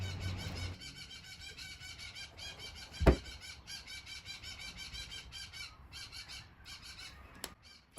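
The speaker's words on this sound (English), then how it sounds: "I think my bird's trying to get my attention." A pet bird squawks and squeals repeatedly in a woodworking shop, sharp piercing calls sounding fairly close and continuing throughout, with one louder thump partway through and no one talking.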